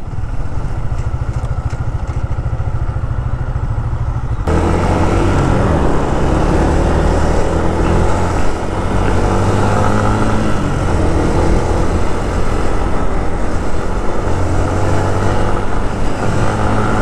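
A motorcycle rides along the road near Bacoor, Cavite, on the way to Kaybiang Tunnel and Tagaytay, its engine droning loud and steady with strong wind rush, the tone shifting as it accelerates through the gears; no talking.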